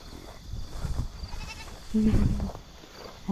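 Goats bleat close by over a noisy outdoor background, one wavering bleat standing out among rustling and murmuring.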